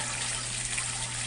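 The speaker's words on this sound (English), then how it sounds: "And the water pours over now." Water pouring steadily over a homemade vortex fountain driven by a 110 volt pump, a continuous close rushing flow with a low hum beneath it.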